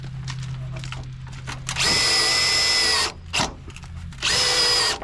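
A power drill drives screws into a drain pipe adapter in two loud whirring bursts of about a second each, with a short blip between them and quieter handling noise before.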